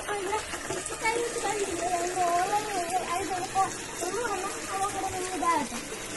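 Running water splashes steadily while cow dung powder is washed out, with a voice talking over it throughout.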